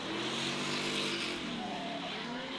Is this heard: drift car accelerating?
yes